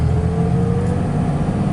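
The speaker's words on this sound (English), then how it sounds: "now we're just driving through town like a regular truck" Lifted 2007 Dodge Ram 2500 pickup carrying a Palomino truck camper, driving through town: a steady engine drone and road rumble heard from inside the cab, continuous and moderately loud with no talking.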